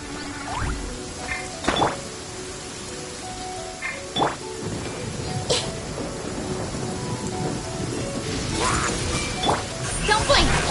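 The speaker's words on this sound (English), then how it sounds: "Thunder and lightning can be quite frightening" Thunderstorm in the Genshin Impact video game, with steady rain hissing throughout and several sharp thunder cracks rumbling at intervals, loud and close, mixed with game sound effects.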